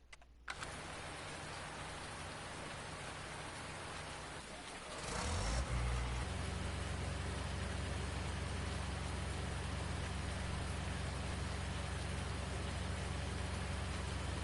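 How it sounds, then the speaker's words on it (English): Steady rain falls in Farming Simulator 19, a continuous broadband hiss that swells around five seconds in and then holds with a low engine-like drone underneath. "So what do we do when it's just raining like this?"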